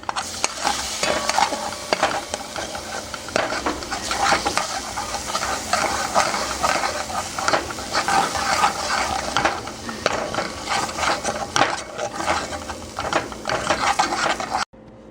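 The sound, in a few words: tomato paste and minced garlic cooking in a pan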